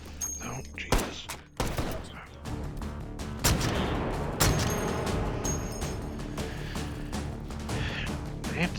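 Gunfire in the VR shooter Take and Hold: loud, rapid shots crack one after another in dense bursts, with heavy thuds and booms mixed in throughout.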